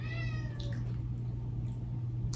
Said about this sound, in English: That's my roomie's cat